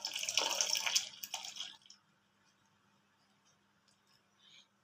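A milk powder mixture pours into boiled milk for rasmalai, a close, bright liquid splash lasting under two seconds, then a faint quiet tail with small drips.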